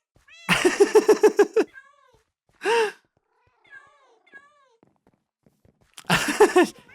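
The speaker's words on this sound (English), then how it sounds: "So Scar has brought his army of cats into our house" Cats meowing in Minecraft, a close, loud series of rapid repeated meows, then a single drawn-out meow, softer chirps, and another burst of quick meows at the end.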